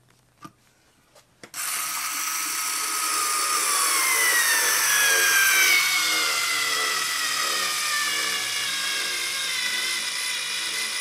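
A lithium-converted Black & Decker cordless screwdriver drives a 2.5 inch screw, with a few light clicks followed by a steady, close whirring drone that rises in pitch as it runs for about nine seconds.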